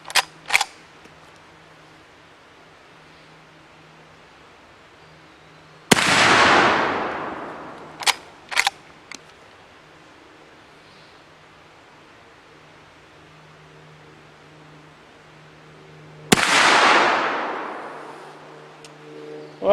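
Shots from an Uberti 1860 Henry rifle crack out at an outdoor range: two loud blasts with long decaying echoes, each followed by sharp metallic clangs as rounds strike steel spinner targets.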